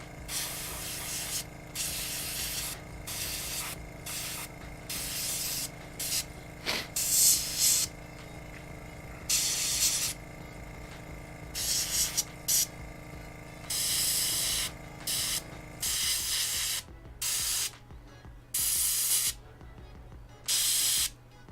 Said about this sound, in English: let's spray that down at the base of the eye tendrils